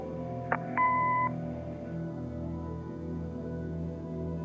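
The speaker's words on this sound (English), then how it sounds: "Leave a message after the beep." An answering machine in the video game Kathy Rain gives a short click followed by one sustained electronic beep, clear over a quiet low hum.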